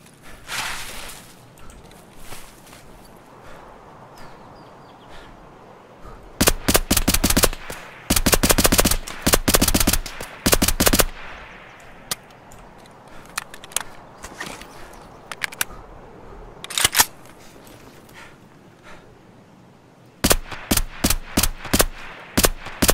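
Gunfire in Escape From Tarkov in a woods setting, loud clustered bursts of close automatic shots separated by quiet stretches, with a final rapid string of rounds near the end.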